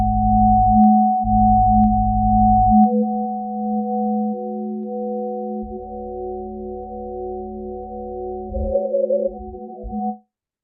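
Audified spectrum from an astronomy IFU data cube, rendered as steady sine-like tones: a sustained lower tone with a higher one above it, a pulsing noisy low band at the start, then shifting layered tones and a brief warbling feature near the end.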